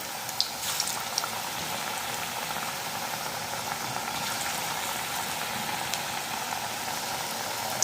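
Pakoras (bhaji) deep-frying in hot oil for an alu vadi recipe, a steady, dense bubbling sizzle that holds at an even level throughout with a few faint crackles and no talking.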